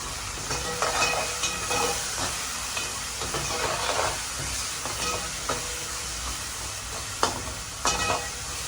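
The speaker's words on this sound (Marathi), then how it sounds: "छान तिखट परतून झालं आहे" Red chilli powder and green chillies frying in a pan for mutton masala, a continuous close sizzle and hiss broken by the scrape and clatter of a spoon stirring at irregular intervals.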